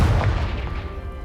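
A deep, rumbling explosion from the Confringo spell in the Hogwarts Legacy video game, loud and booming from the start and slowly fading over a second.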